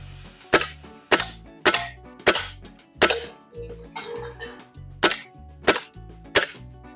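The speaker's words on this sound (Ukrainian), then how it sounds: "Буду робити по одному пострілу." Eight sharp shots from a Gamo Swarm Magnum Pro air rifle fire at field targets one after another at roughly regular intervals, each a crisp snap with a brief metallic ring.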